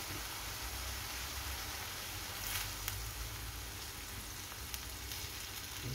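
Soy sauce hitting a pan of frying adobo with string beans: a steady, dense, hissing sizzle with occasional small pops and crackles, close and even throughout.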